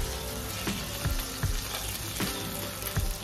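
Spices for a mutton curry frying in a pan, a steady close sizzle with several low thuds and clinks of stirring at intervals.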